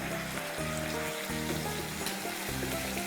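Ginger and garlic paste frying in a pan of mutton rezala gravy, a steady close sizzle and crackle with a soft bubbling bed, continuous and without voices.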